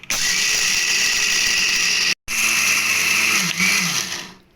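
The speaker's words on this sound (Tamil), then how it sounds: "இப்போ இந்த பிளெண்டர் வச்சு நம்ம அரைக்க போகிறோம்" Roasted peanuts are ground to powder in a blender, whose loud, close motor whine runs steadily, cuts out for a split second, then resumes and shifts pitch briefly before winding down.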